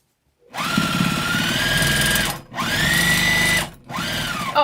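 Sewing machine stitching seams on a tote bag, loud and close, running in three sustained bursts with a steady motor whine and rapid needle clatter, separated by brief pauses.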